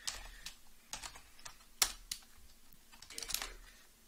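Computer keyboard keys clatter in quick irregular bursts of close, crisp taps with short pauses between, over a faint steady background hum.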